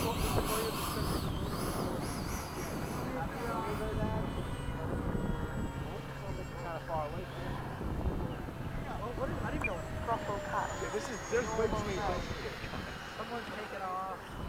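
A 70mm FMS F/A-18 electric ducted-fan RC jet whines steadily during takeoff at a flying field, its engine tone running throughout under near, ongoing talk and outdoor ambience, with birds faintly audible.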